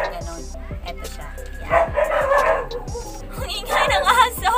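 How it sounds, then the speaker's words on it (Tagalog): A dog barks in quick, repeated yips and woofs, close and fairly loud, while voices talk at the same time. "Ingay ng aso!"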